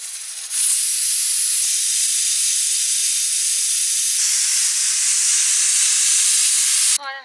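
A pressure cooker with chicken inside whistles steadily, a loud and continuous hissing jet of steam that holds for several seconds, then cuts off sharply near the end.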